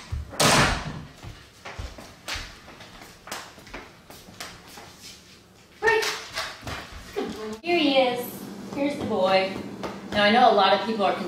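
A dog barks in sharp bursts amid door clatter and thumps, then excited voices take over in the last few seconds.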